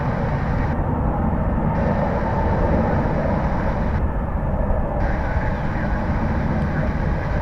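A jet airliner at DFW airport, bound for Las Vegas, roars as a loud, continuous broadband rumble and hiss that holds steady throughout, heard close, with no voices.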